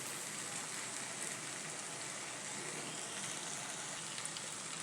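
Okra sabzi cooking uncovered in a pan, a soft, even sizzle and crackle that hisses steadily and quietly throughout with no break.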